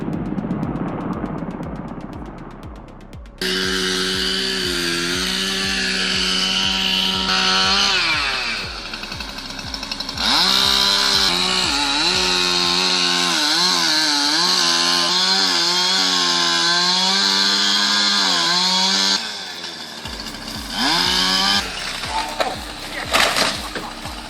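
A dull chainsaw cutting a tree, its engine revving and bogging in long loud stretches with idle gaps between, while voices talk at times over the noise.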